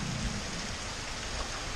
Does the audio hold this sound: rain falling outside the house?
yes